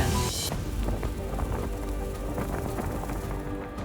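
Steady rain on the Camino de Santiago hisses across surfaces, a dense continuous wash of drops close by, with a brief sharper burst at the very start.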